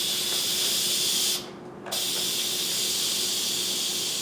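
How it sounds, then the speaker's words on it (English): Steam hisses steadily out of the pressure-release vent on an Instant Pot pressure cooker. The hiss is loud and continuous, breaks off sharply for about half a second partway through, then resumes at full strength. "Now we need to vent the pressure cooker in order to get all the steam out so that we can open the lid"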